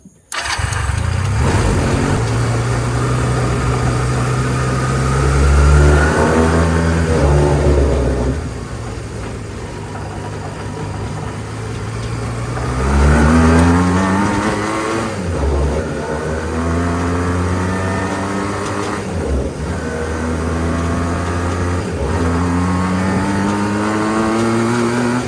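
A go-kart fitted with a swapped street bike engine starts and revs loudly up close, the engine rising and falling through repeated rev sweeps over a rough, continuous idle.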